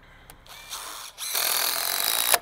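A power drill drives short, small screws into a log on the second story of a log cabin: a few brief bursts and pauses, then one loud, sustained whirring run close by.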